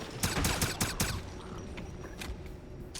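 An upgraded weapon in a Wolfenstein video game fires rapid bursts of shots, loud and close at first, then thinning to scattered shots farther off.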